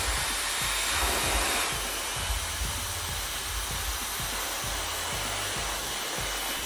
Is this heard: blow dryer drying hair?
yes